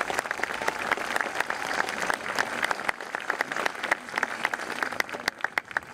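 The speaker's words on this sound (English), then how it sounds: "So, a round of applause." A round of applause rings out from the crowd at an official museum opening in Kilmurry, with sustained, moderately distant clapping that holds steady for several seconds and thins slightly toward the end.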